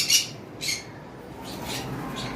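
Cockatiels at a bird farm let out several sharp, bright squawks in quick succession, close and fairly loud with nobody talking.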